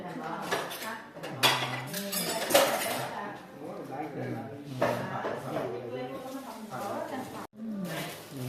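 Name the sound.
stirring beef larb with a utensil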